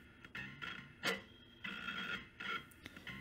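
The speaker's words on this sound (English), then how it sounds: "The servo noise is caused by noisy phase current measurements and an extremely high current control loop bandwidth." Closed-loop servo motor whining and buzzing from noisy phase current measurements, intermittent bursts of mechanical whirring as it moves, faint and close with no talking.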